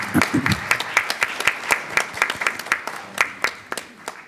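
A small crowd at a board meeting applauds for veterans, a burst of steady claps close by that carries on evenly for a few seconds.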